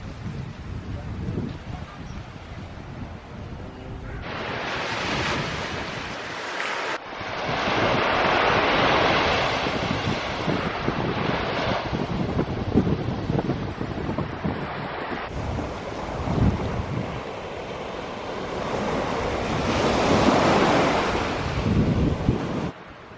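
Surf breaking on Porthminster Beach in St Ives, Cornwall, rolls in steady, loud washes with heavy wind buffeting the microphone throughout, surges swelling around a few moments.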